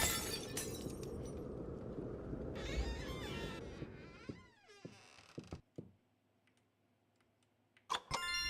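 Glass shatters in The Cabin Factory video game: a loud, bright crash bursts out and rings for a few seconds, then scattered tinkling fragments and small clicks trail off into near silence before a final sharp clatter.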